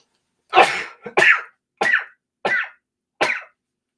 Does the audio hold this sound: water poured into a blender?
no